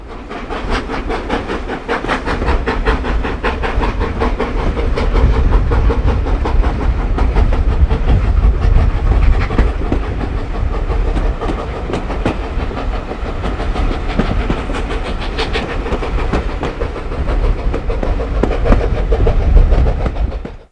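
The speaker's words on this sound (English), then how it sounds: "The locomotive put on a good show on the steep climb out of Keighley." A steam locomotive working hard up the steep climb out of Keighley on the Keighley & Worth Valley Railway, with a loud, steady rumble, rapid exhaust beats and rattling carriages, running continuously and close by.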